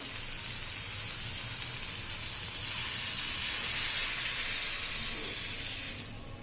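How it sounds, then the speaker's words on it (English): Water poured into a hot pan of sprouted mung bean curry with tomatoes, potatoes and drumsticks, giving a steady hiss and steamy sizzle that swells briefly midway before easing off. "Let's add in some water."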